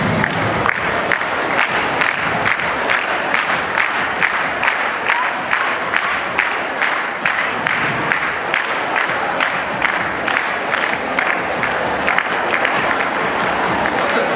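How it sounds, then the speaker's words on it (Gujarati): Audience at an award and felicitation stage event applauding, dense loud clapping sustained with a steady rhythmic beat throughout, close and continuous with no break. "જોરદાર તાળીઓથી વધાવીએ."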